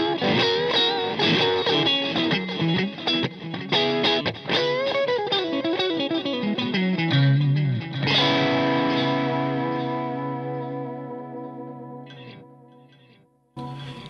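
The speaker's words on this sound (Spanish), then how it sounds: "yo puedo ensuciar un poco la señal, como tratando de lograr ese sonido de los amplificadores viejos de tubos" Electric guitar run through a Xotic AC-Comp compressor pedal, dirtied toward an old tube amplifier tone: distorted chords and picked notes, then a long sustained ringing chord that slowly fades, played alone without talking.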